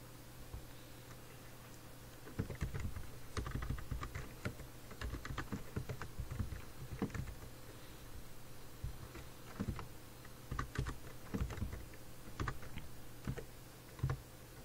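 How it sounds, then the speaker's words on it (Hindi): Soft typing on a computer keyboard while entering data in an Excel spreadsheet, with quiet, irregular bursts of key clicks separated by short pauses. "इसी तरह हम कुछ यहाँ पे टाइप करते हैं।"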